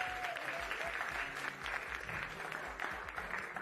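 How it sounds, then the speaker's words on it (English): A school district board meeting audience gives a round of applause for a teacher and his students from a math honor society chapter, a steady, dense wash of clapping from a sizable crowd. "So let's give Mr. Haynes and his students a round of applause for that."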